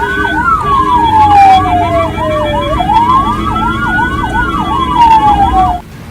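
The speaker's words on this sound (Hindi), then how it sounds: "एम्बुलेंस ने सायरन और हॉर्न लगातार बजाकर रास्ता मांगा" A loud, nearby ambulance siren alternating between a slow rising-and-falling wail and a rapid yelp, with traffic noise underneath.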